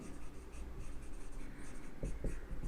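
Marker or chalk writing on a board during a chemistry lecture on tautomerism, a steady scratchy stroking with a few sharper taps near the end, close and continuous, no voice over it.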